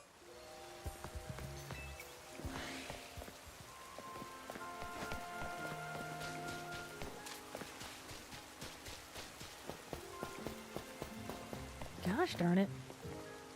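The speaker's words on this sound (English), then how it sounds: "Nobody's in here because it's raining." Steady rain patters in the video game Pokémon Legends: Z-A, a soft continuous wash of drops under game music and chimes, while a man briefly mutters near the end.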